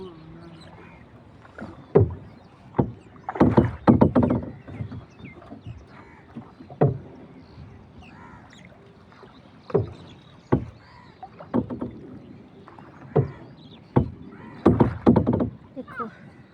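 A small boat is rowed on water, with oar strokes splashing and knocking in irregular bursts, some paired, between quieter stretches, while people talk nearby.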